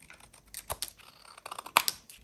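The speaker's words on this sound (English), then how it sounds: "And now I can just cut these corners." Scissors snipping the corners of paper in a scrapbooking project, several quick crisp cuts close by, with one sharper snip near the end and no talking.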